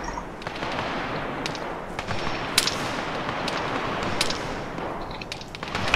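Machine gun fire in the military simulation game ARMA 3: a dense, continuous crackle of distant gunfire over steady battlefield noise, punctuated by a few sharper, louder cracks.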